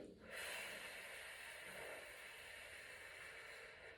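A singer draws a long, deep breath in, a soft, close airy inhalation that swells quickly and then holds steadily for several seconds before fading.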